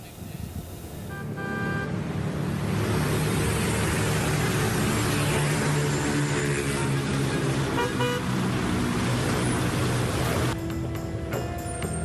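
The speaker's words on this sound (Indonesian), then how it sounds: "pengendara sepeda motor dan mobil terjebak kemacetan karena masuk jalur Transjakarta" Heavy traffic jam in Cengkareng, West Jakarta, with motorcycles and cars stuck on a Transjakarta bus lane, a loud continuous engine and road roar with short horn toots at the start and later on.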